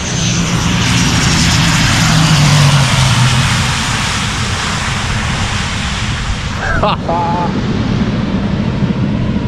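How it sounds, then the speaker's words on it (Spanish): Loud, steady roar of a jet airliner landing close by, engines braking, broadband engine noise filling the whole stretch, with a brief whine partway through. "¿Escucháis los motores frenando?"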